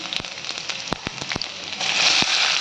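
Cumin and garlic sizzle in hot oil in a kadai, a steady close crackling hiss with scattered sharp pops that grows denser and louder near the end.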